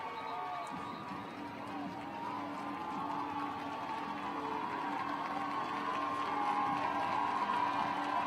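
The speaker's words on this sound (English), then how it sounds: "Crowd on their feet." A high school football crowd roars on its feet in a stadium late in a close game, a broad, steady wash of cheering from the stands that builds slightly and carries on alone without a break.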